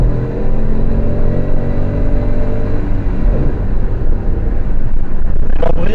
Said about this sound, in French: Donc on se retrouve à bord de notre petite Ford Fiesta essence.